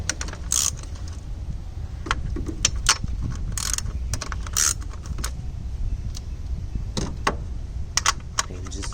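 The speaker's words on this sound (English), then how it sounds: "First just break all the bolts loose." Bolts on the spark plug coil packs of a Mazda 3 being broken loose with a 10mm socket on a ratchet, heard as a series of close, sharp metallic clicks and clacks over low background noise.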